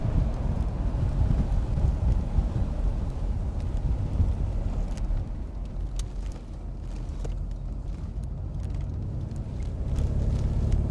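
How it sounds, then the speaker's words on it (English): Wind buffets the microphone in an SGS Marbella open car driven fast on a very windy day in Port Elizabeth, a loud low roar with gusty rumble and road noise, no voices. "It's windy back there when you go fast."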